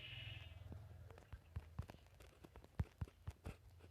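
Several short sheep bleats from the Minecraft video game come at uneven intervals over a steady low electronic hum and a higher tone at the start, fairly faint with quiet clicks between them.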